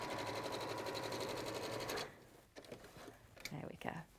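A Juki sewing machine runs in a rapid, steady stitching whir for about two seconds, then stops; afterward there are soft handling clicks and faint movement.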